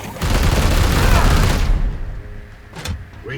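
Loud burst of video game gunfire, a dense fusillade of shots lasting over a second, then fading into a quieter tail with a faint mechanical clack near the end.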